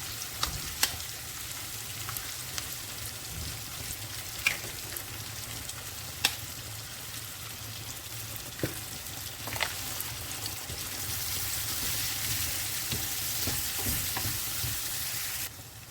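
Egg frying in a pan with bitter gourd and pork adobo, a steady low sizzle with occasional sharp spatula clicks and stirring, growing brighter and louder toward the end, no talking.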